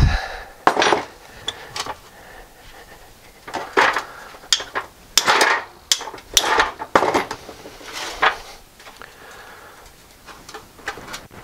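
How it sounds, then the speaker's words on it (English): Sharp metallic hammer blows strike a crusty motorcycle gearbox part on a BSA B31/B32/B33/B34 being dismantled, irregular clanks and taps spaced unevenly, some ringing, in a quiet workshop. "Get a bit of hammer impact."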